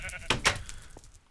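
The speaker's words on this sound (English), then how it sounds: "I think there's a sheep hanging out here in the stables." A sheep bleating in the Minecraft video game, two short wavering bleats close together near the middle, fairly close, over faint background, with no talk.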